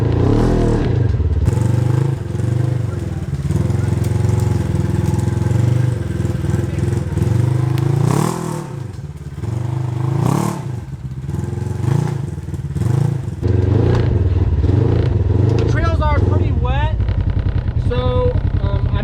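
Polaris RZR XP 1000 side-by-side running in full drive along a dirt trail, its engine droning and revving under continuous talk, with clattering and scraping from the rough ground.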